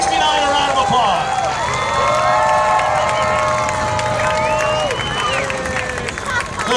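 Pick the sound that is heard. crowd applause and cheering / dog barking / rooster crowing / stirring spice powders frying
crowd applause and cheering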